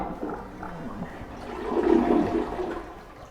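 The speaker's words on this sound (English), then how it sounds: "Good flushing toilet." Toilet flushing in a house, a close rushing swirl of water that builds to a loud peak midway and then drains away, with no talk.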